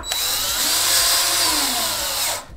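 A power drill drives quarter-inch structural screws through a joist strap into wood, whirring steadily and loudly for over two seconds with a pitch that dips under load, then cuts off abruptly.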